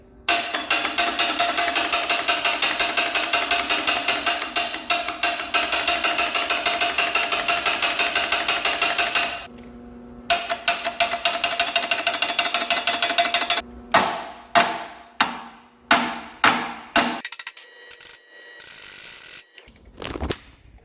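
A failing Cummins diesel engine's starter grinds and cranks hard with a jump pack and 200-amp booster attached, a loud rapid chattering whir that cuts out, resumes, then breaks into slowing, uneven bursts, no one talking.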